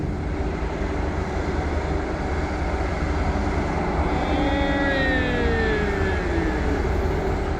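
A loud, steady rumbling roar of a passing red electric train with three powered cars and two coaches in Bangkok, with rising and falling whines and squeals of wheels over the last few seconds.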